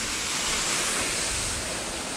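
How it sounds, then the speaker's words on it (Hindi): Water pours steadily at Bhavli Waterfall in Igatpuri, a low, clear flow giving an even broadband rush that holds constant throughout, close and fairly loud, with no voices. "आप लोग देख सकते हैं वाटरफॉल में पानी बहुत कम है और पानी साफ भी है।"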